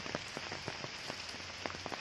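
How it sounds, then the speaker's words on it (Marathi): Rain patters steadily on a surface, with scattered distinct drops tapping over a soft continuous hiss, fairly faint and close by. "आत्ता पाऊस चालू झाला"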